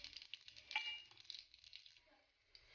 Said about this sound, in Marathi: शेंगदाणे टाकून घेऊ,